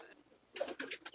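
Faint, brief throaty coo from Andhra pigeons, a couple of short soft calls heard at close range in a quiet space.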